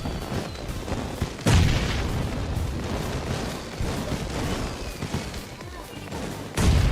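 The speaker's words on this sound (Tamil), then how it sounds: "பட்டாசு வெடிக்குது" Firecrackers bursting during a New Year celebration in the mobile game PUBG Mobile, with sharp booming bangs at irregular intervals over a continuous crackling, noisy game background.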